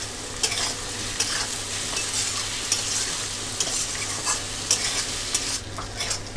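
Salted onions fry in a pan for an eel curry, a close, steady sizzle with repeated spatula stirring strokes and light scraping knocks.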